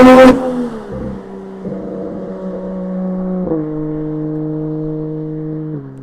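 A Toyota GT86 engine rises in a strong rev on the approach, then settles into a steady drone that holds its pitch and climbs a step partway through, sounding close and fairly loud with no talk over it.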